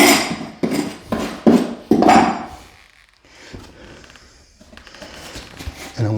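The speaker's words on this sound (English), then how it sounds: "now I can clean this up with my little scraper end of my bar here" Scraper end of a pry bar cleaning up the edge of a damaged plywood subfloor: several hard, close scraping strokes with sharp knocks in quick succession, then quieter shuffling and handling noise.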